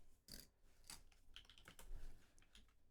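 Computer keyboard typed on in a few quick, uneven bursts of close, crisp key clicks, fairly quiet, with no talk.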